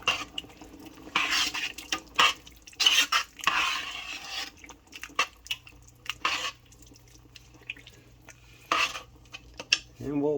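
Spaghetti sauce being stirred with a spoon in a pot, metal clinks and scrapes coming in irregular bursts, close and fairly loud, with brief quiet gaps and a low steady hum underneath.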